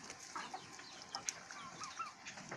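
Chickens at a provincial backyard farm cluck softly in a low, continuous stream of short calls, with a few sharper squawks breaking through a busy, noisy farmyard background; no talking.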